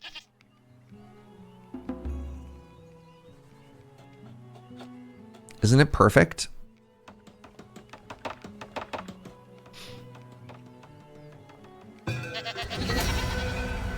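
Baby goats in the video game Farthest Frontier bleat in a brief, sharp burst midway through, among sparse clicks and taps, while a person talks now and then.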